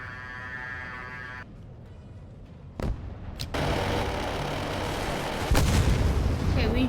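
Planes colliding in a kamikaze crash in the Roblox game Wings of Glory, a steady engine drone giving way to sharp impact bangs and a loud explosive burst, followed by continued rumbling noise.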